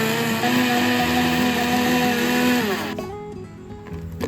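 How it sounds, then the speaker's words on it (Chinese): A blender whirs loudly as it blends pandan leaves cut into small pieces with 200 ml of water, its motor pitch steady, then it winds down and cuts off near the end, with no talk. "5片斑斓叶，剪成小块，放入搅拌机里，加入200毫升清水，搅打成斑斓"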